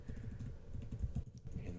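Quiet, close computer-keyboard typing as a column name is entered, with a quick run of soft key taps and a brief pause.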